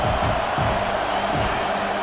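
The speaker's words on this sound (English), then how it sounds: "Decibels rising as the crowd gets behind this defense on third down" Stadium crowd roaring and cheering for the defense on third down in EA College Football 26, a dense, loud, continuous wash of noise with scattered whoops.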